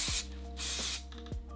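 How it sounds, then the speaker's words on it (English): Hairspray hisses from a can onto hair in short close bursts, two main sprays about half a second each with a quieter puff between, alone without talking. "so I'm just gonna spray"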